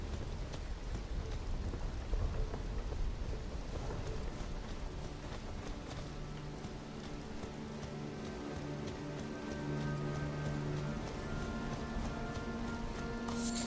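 Steady rainfall in the video game Elden Ring: a dense, even hiss of falling rain throughout, joined in the second half by sustained low tones from the game.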